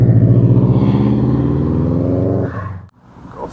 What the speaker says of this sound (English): Got a few more cars coming